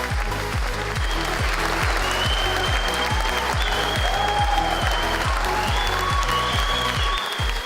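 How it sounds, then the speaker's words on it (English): Enthusiastic crowd gives a standing ovation at a Labour Party congress, dense sustained applause with loud rhythmic group clapping that keeps a steady beat, plus a few faint whistles above it, close and loud throughout. "he was greeted by a standing ovation and a very enthusiastic crowd"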